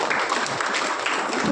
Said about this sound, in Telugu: ఒక్కసారి దీనికి క్లాప్స్ కొట్టచ్చు.